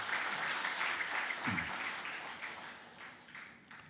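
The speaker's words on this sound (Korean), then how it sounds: "우리 박수로 감사의 마음을 전하겠습니다" A church congregation applauds the choir during a Sunday worship service, a soft, steady wash of many hands clapping in a large room that slowly fades.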